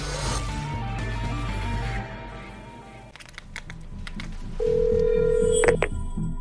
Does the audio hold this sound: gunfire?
no